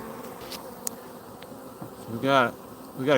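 Honeybees from a swarm buzz around hive boxes, a close, wavering drone with individual bees zipping past the microphone in short rising and falling passes.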